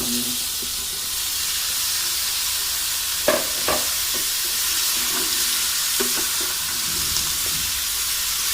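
Marinated chicken frying with browned onions in a hot pan, a loud continuous sizzle and hiss throughout, broken by a few clinks and scrapes of stirring.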